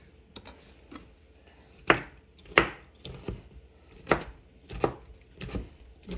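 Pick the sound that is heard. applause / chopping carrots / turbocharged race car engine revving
chopping carrots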